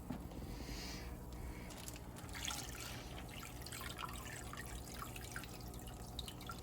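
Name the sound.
aquarium tank water added to fish bag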